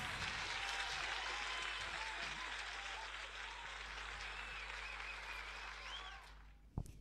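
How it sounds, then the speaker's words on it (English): A canned applause sound effect plays during a home live stream, steady crowd clapping filling the clip before tapering with a sharp knock near the end. "YouTube applause sound effect."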